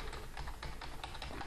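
Quick, light keystrokes on a computer keyboard as a file name is entered, with about a dozen soft, steady clicks and no talking.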